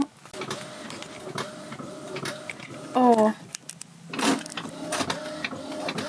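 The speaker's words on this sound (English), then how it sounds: "I'm gonna put it in the printer that way around" Label printer working while packing small-business orders, giving short mechanical whirs and a brief rising electronic chirp, close by and mixed with a person talking.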